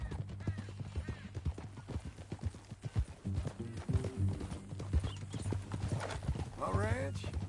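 Horse hooves clip-clop at a walking pace in a Red Dead Redemption 2 game scene, with a snorting whinny near the end, while characters converse over the steady rhythmic hoofbeats.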